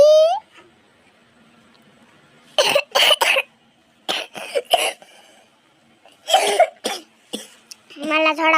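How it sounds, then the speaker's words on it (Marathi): A boy coughs several times in short bursts, close to the microphone, between stretches of quiet, with talking at the start and end. "मला थोडा खोकला यायला"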